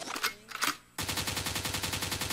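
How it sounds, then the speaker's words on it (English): Two short bursts of gunfire are followed by a sudden switch to a fast, continuous rattling volley of machine-gun-like shots, all at even loudness with no voices. "a gunshot means forward"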